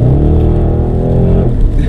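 A 760 bhp Audi RS6 Avant roars loudly up close, its engine revving hard with a deep, continuous rumble that rises and dips as it accelerates, with no talking.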